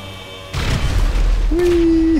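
Explosion in the game GTA 5 Online, a loud boom that rumbles on, followed by a sustained tonal whine near the end.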